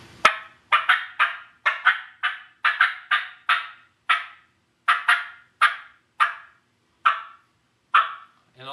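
Handheld turkey call imitating turkey yelps: a loud, close run of about twenty raspy yelp notes in uneven bursts and groups, with short gaps between them and no talking.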